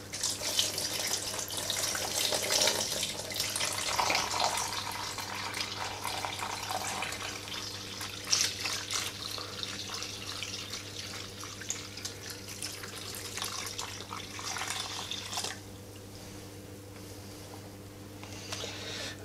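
Liquid jelly mixture poured into a container for a Dalek-shaped jelly, a continuous running, splashing pour that stays fairly quiet and steady, then eases off toward the end with no talking.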